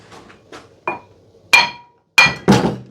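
Metal parts clink and knock while the flywheel comes off a 2CV air-cooled flat-twin engine, giving five sharp, close, ringing strikes at uneven intervals with quiet gaps between them.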